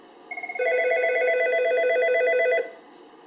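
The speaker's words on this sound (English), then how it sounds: "both the telephone and the 8180 will ring simultaneously" An Algo 8180 SIP audio alerter and a desk telephone ring together: a few quick chirps, then a sustained warbling electronic ring lasting about two seconds before cutting off, loud and close.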